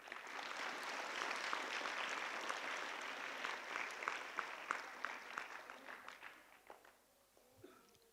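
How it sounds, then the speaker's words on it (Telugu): A workshop audience applauds the trainer Ram master with sustained clapping that stays loud for several seconds and then thins to scattered claps near the end. "ఒకసారి రామ్ మాస్టర్కి క్లాప్స్ కొడదాం"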